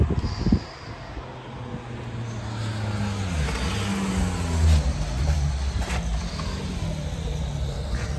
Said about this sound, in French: Nous avons des motos aussi.